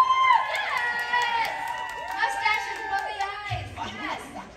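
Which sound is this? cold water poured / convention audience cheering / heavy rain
convention audience cheering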